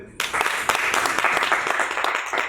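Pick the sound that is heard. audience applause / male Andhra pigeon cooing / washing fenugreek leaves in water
audience applause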